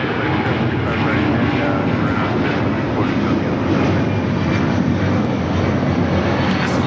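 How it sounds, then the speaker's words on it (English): Delta Boeing 757-300 taking off at LAX, bound for Atlanta, its engine roar steady and loud throughout with a dense broadband rush. "528, taking off to Atlanta on the 757-300"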